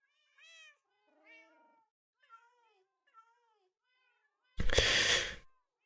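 Cats in the video game Minecraft, played in the GTNH modpack, give four or five separate short meows, clear against silence, and then a loud burst of noise lasting about a second.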